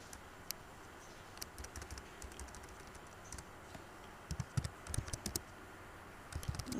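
Light, irregular keystrokes on a computer keyboard while writing a line of file-handling code, quiet and close with short bursts of tapping and gaps between.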